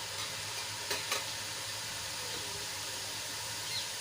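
Gram flour (besan) snack batter frying in hot oil, giving a steady, even sizzle and hiss with a couple of brief faint clicks near the start.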